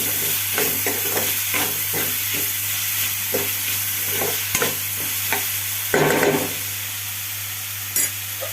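Chopped onion pieces cook in a pan with salt and turmeric: a constant sizzle runs under repeated rhythmic stirring scrapes, with a couple of sharper knocks near the end.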